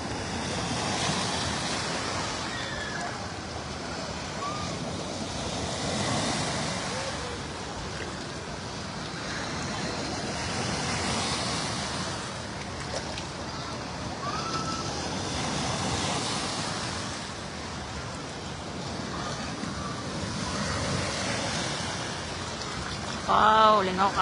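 Waves wash and surge continuously through a large resort wave pool, rising and falling in broad swells with some wind noise over the microphone.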